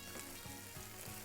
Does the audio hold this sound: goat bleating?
no